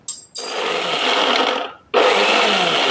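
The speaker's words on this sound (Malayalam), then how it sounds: "നമുക്ക് മിക്സിയുടെ ചെറിയ ജാറിലിട്ട് അടിച്ചെടുക്കാം" A small jar on a kitchen mixer grinder blends jamun fruit with black salt, giving two loud whirring bursts of motor noise separated by a brief pause.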